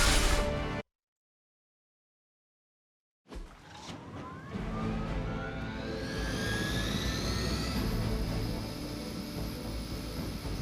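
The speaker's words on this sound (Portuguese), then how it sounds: "Incapacite o helicóptero da Hidra antes que ele vá embora." Hydra helicopter in the Marvel's Midnight Suns video game: after a brief break in sound, a loud rotor and engine roar builds, with rising whining tones swelling over a dense mechanical rumble.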